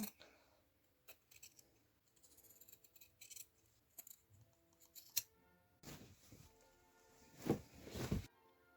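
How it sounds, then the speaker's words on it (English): Scissors snipping open the side seams of a jacket being upcycled: scattered quiet cuts and fabric rustles, then a louder stretch of rapid snipping near the end, close and without speech. "Opening up the side seam. Cut open the sides."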